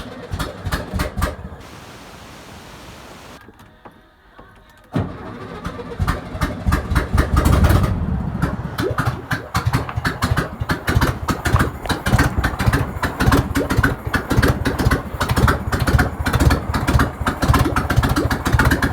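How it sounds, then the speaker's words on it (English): A 1971 VW Beetle engine coughs during an attempted start, drops away, then catches and settles into a loud, steady, fast-pulsing idle that runs to the end, with no talking. "You can hear the pistons going up and down"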